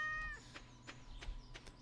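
A cat in the Stardew Valley video game gives a clear, drawn-out meow at the start, followed by a few soft repeated sounds over a quiet backdrop.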